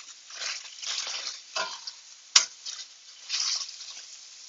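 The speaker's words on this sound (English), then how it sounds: "So I'm going to put the oregano in just so it can toast just a little bit." Oregano toasts in a hot pan with chicken and peppers, a soft crackling sizzle with stirring and scraping, and one sharp tap of a utensil against the pan midway.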